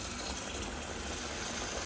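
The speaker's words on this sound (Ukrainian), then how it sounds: "Ми рис ретельно промиваємо до прозрачної води." Water rinses rice for plov, two 907-gram packs, in a steady, continuous rush of running, gushing water that holds an even level throughout and cuts off abruptly at the end.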